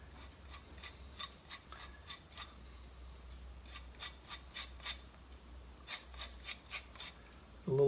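A lime being zested on a grater in a home kitchen: rhythmic rasping strokes, close and fairly quiet, in two steady bursts with a short pause between, no talking.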